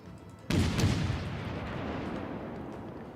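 Naval guns fire in the World of Warships video game as a sharp broadband boom bursts in after half a second and then rolls on as a long, dense rumble that fades slowly, with no voices.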